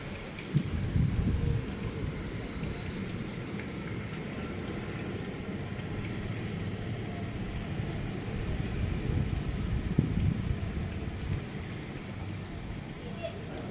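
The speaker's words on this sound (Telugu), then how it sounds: "బాగా బాగా ఎక్కువగా గాలి ఉంది వర్షం ఉంది" Steady roar of wind and rain in a cyclone at Samalkot, with low rumbling gusts throughout and a few sharper knocks, continuous and loud without letup.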